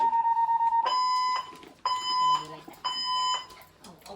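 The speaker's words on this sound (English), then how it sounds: "when the fire alarm testing was going on" A fire alarm being tested sounds in repeated long, shrill, insistent electronic beeping pulses with short gaps.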